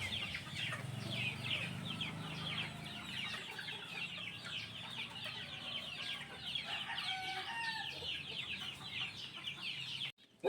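Gamefowl hens and chicks cluck and peep together in a pen, a busy, faint chorus of soft clucks and high chirps that runs on steadily, with no voices.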